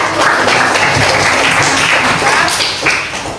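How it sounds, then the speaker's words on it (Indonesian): An audience at a school festival for a teacher training event breaks into loud, dense applause close by, a sustained burst of clapping that tapers slightly at the end. "beri tepuk tangan untuk Monik."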